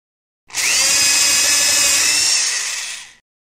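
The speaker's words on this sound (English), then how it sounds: "First, drill a hole in the tree." A power drill bores a hole into a tree trunk for tapping sap in a children's video game, one steady high-pitched whir lasting about three seconds, loud and close, with no talk over it.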